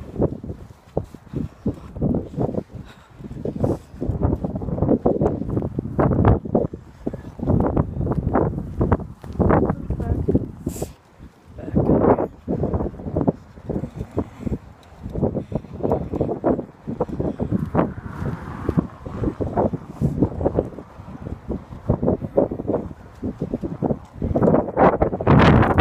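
Strong wind buffets the microphone in loud, gusty bursts throughout, with rumbling rushes and brief lulls between gusts.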